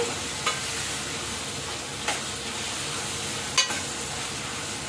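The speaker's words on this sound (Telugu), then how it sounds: "ఉల్లిపాయలు పచ్చిమిరపాయలు టమాటాలు ఇవన్నీ కామనే కదా ఇదిగో ఫ్రై అయిపోతున్నాయి" Onions, green chillies and tomatoes frying for a beef curry give a steady close sizzle, with three sharp clicks of a spatula against the pan spaced through it and no voices.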